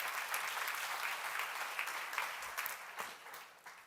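A church congregation applauds during a sermon, a dense, steady clapping heard from a little distance at fairly low level, with faint voices underneath.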